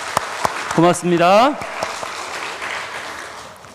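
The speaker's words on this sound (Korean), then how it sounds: "박수 주세요." A church congregation at a Sunday service gives a moderate round of applause after a prayer, with a voice thanking them briefly over the first claps.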